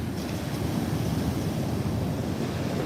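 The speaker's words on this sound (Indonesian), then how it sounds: "Ini kita berada sekarang di Pantai Muaro Bayang, Kecamatan Bayang, Kabupaten Pesisir Selatan, Sumatera Barat." Ocean surf at Muaro Bayang beach in Bayang, Pesisir Selatan, West Sumatra, a dense, steady roar of breaking waves with wind rushing across the microphone, loud and continuous with no voices.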